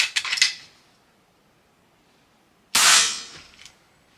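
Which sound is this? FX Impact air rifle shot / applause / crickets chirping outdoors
FX Impact air rifle shot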